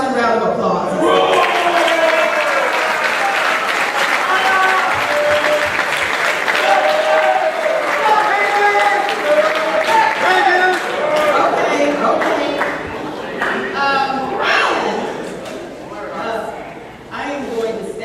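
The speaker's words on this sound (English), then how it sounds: "How about a rousing round of applause?" A university convocation audience breaks into a rousing round of applause, dense clapping mixed with cheering voices, loud and sustained for over ten seconds before thinning into scattered claps near the end.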